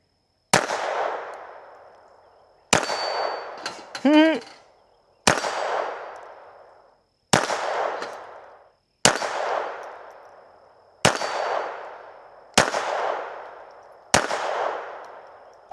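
Retay RXP 22 pistol fired at targets 20 yards away, eight sharp, loud reports spaced a second or two apart, each ringing out with a short echo, with a faint metallic ring between two of the shots.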